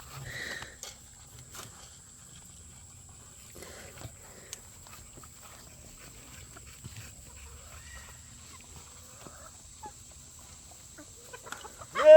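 Chickens cluck faintly and sporadically in a quiet homestead yard, with scattered soft calls, a steady high hiss, and a louder burst at the very end.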